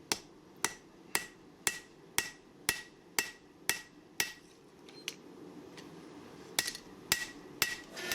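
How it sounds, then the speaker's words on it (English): A hammer forges 80CrV2 steel knife stock with its cross peen, about a dozen sharp metallic blows in a steady rhythm, loud and close, a brief pause midway, then more strikes resume. "like to use the cross peen of the hammer to shape the front finger choil, or the area where the handle transitions into the blade"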